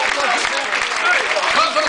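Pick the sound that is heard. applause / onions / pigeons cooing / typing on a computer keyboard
applause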